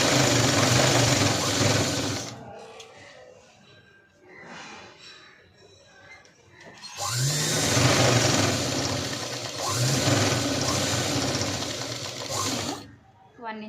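Sewing machine stitching a pencil cut pant, loud continuous whirring bursts from 0 to 2 seconds and again from 7 to 13 seconds, with a quieter pause of handling noises in between.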